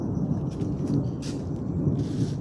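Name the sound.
rain and thunder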